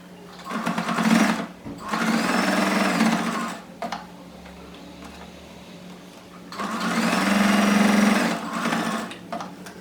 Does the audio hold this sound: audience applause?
no